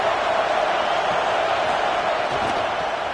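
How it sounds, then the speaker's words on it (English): Stadium crowd noise in a college football video game before a Texas Longhorns drive, a steady, loud roar of massed fans filling the whole stretch with no break, while a commentator's voice talks over it. "This crowd ready to make its presence known."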